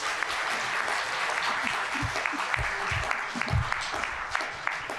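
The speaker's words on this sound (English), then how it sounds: "Please give a round of applause again to our team volunteers." A conference audience gives sustained, dense applause for the event volunteers, a steady wash of many hands clapping at once with no speech over it.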